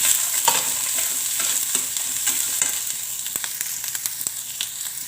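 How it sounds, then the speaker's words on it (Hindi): Chopped capsicum and green chillies frying with masala in a pan give a continuous close sizzle, with repeated stirring scrapes ticking through it. "मसाला हल्का हल्का भुनने लगा है"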